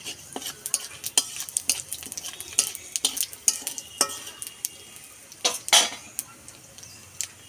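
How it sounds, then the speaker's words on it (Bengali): Panch phoron spices crackle in hot oil in a kadai while a utensil scrapes and clinks against the pan, producing scattered sharp pops and metallic taps over a faint sizzle, close with no talking. "এইবার আমি রান্নায় যাব চলো এবার রান্নায় তেল দিয়ে দিলাম পাঁচ ফোড়ন"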